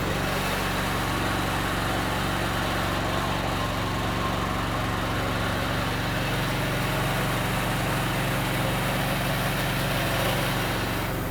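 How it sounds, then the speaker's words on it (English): A QuickDraw spray tender system runs a rinse cycle, its engine and pump droning loudly and steadily with no break throughout. "So our rinse valve up here is running in between every product, so we're cleaning everything out every time"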